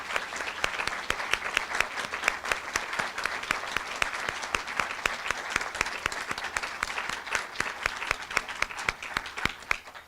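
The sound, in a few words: audience applause for the inductees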